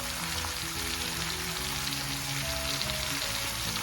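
Egg noodle stir-fry (pancit canton) sizzling steadily in a hot pan as Sriracha is added, a loud continuous frying crackle with no talking.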